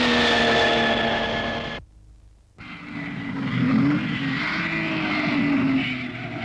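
A Ferrari race car engine roars loud and close during the 1953 Mille Miglia, cutting out briefly before returning with a rising, strained drone as the car climbs.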